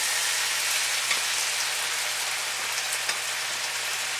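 Steak dumped back into a hot skillet for pepper steak, giving a steady, dense sizzle of frying juices that stays loud and even throughout, with a few faint pops and no talking.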